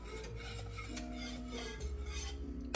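A whisk scrapes and rubs around a pot of chocolate pie filling on an electric stove, a steady soft rasping under a constant hum, with a faint clink near the end.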